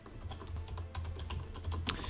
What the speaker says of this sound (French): Oui, je martèle mon clavier.